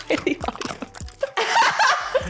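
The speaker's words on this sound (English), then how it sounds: "munching on some chips right now" Crunchy chips being munched close to the microphone, a few sharp bites and chewing mixed with soft laughter and a crackly burst near the end.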